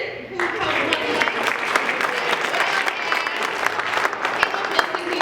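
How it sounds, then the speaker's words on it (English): A high school show audience breaks into loud, dense applause for a crew member, continuous clapping from many hands sustained for several seconds. "We can all give a clap for Woody Wilson"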